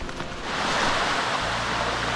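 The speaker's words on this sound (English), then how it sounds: "And there you can see the waterfall already just there." A waterfall at Tallebudgera Creek Falls in Springbrook, Queensland, roars as a steady broadband rush of falling water, moderately loud and continuous throughout.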